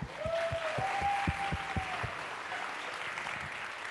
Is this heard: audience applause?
yes